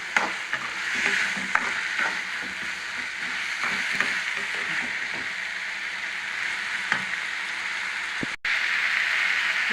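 Tomatoes frying with salt in a pan for tomato chutney: a continuous close sizzle with scattered stirring scrapes and small pops, steady and unbroken, no talking.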